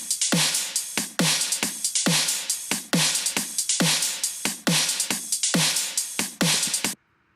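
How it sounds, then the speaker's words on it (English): Sampled chorus drum hits, speed-shifted to sit in time, pound out a steady repeating pattern of punchy, bright crashing strikes with a looping feel before stopping abruptly, loud and without voices. "The drums I used during the choruses were sampled"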